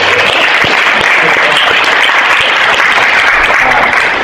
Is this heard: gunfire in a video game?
no